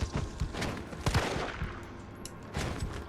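Gunfire from a first-person shooter video game comes in quick bursts and single shots, punchy and irregular over a dim background, with no talk.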